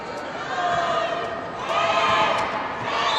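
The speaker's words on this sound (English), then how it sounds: "And the crowd gets into it. They start the countdown well before we do." Crowd noise swells at a women's Kho Kho World Cup match between India and Malaysia, a dense, loud mass of voices chanting and shouting steadily throughout, rising toward the end as spectators count down.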